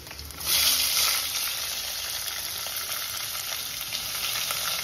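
Crushed garlic and curry leaves fry in oil with a loud, continuous close sizzle that flares sharply near the start and then holds steady with light crackling.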